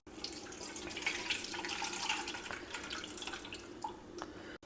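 Soft sloshing and squelching of liquid with small drips and splashes, close and quiet, as soaked tamarind is squeezed and stirred in hot water to extract its juice.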